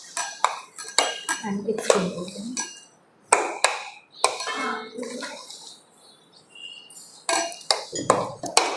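Rice flour modak dough being mixed with desi ghee in a metal pot, giving repeated clinks and scrapes of a utensil against the pot, with a voice talking over parts of it.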